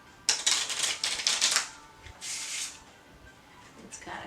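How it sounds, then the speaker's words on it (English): Playing cards are riffle shuffled upside down, giving a rapid, crisp, fluttering crackle in one long burst, then a shorter one, close and alone. "Cards are shuffling upwards."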